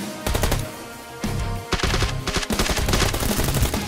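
Rapid automatic gunfire in the video game PUBG Lite, loud bursts of repeated shots with short pauses between them and no talking.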